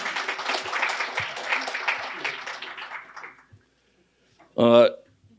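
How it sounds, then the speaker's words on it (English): Audience applause at a college career pathways summit rises as a dense patter of clapping, thins out and stops, then a single voice speaks briefly after a short silence. "Another round of applause for Dr."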